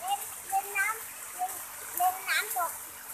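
A child splashes and plays at a waterfall on a volcanic mountain, with light rushing water underneath and a voice heard over it in short bursts.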